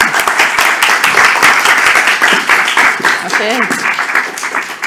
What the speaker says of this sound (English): Please give her an applause, Sarah Pabian.